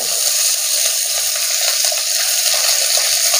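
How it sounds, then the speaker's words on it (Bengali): Cauliflower, beans, carrots, potatoes, capsicum and onion fry lightly in oil in a pan for a restaurant-style Kolhapuri mixed vegetable dish, giving a steady, close, continuous sizzle with no voices. "এটা আমি হালকা হাতে ভেজে নেব।"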